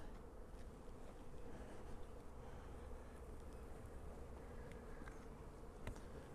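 Honey bees swarm around brood frames being shaken at an open hive, a dense, steady buzzing hum that fills the whole stretch without pause, close and even in loudness, with faint knocks of handling.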